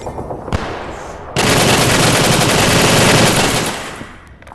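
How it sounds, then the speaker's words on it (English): Sustained automatic machine gun fire in a close-quarters video game, a loud continuous burst of rapid shots that starts abruptly after a short gunshot and runs for about three seconds before tapering off. "we have the same machine gun, bro."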